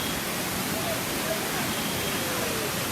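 Kothapalli waterfall near Paderu roars in a dense, unbroken rush of falling water, loud and close, with faint voices of visitors buried beneath it.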